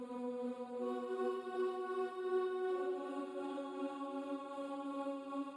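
A synthesized Omnisphere boys choir pad, washed in reverb, EQ'd and given a gently pulsing volume, holds slow shifting choral chords with a soft throbbing swell, and no one talks over it.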